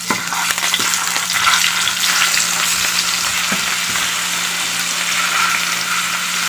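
Chicken pieces fry with garlic in a pan for Filipino adobo, a loud, close, continuous sizzle with occasional knocks of stirring and a low steady hum beneath, no voices.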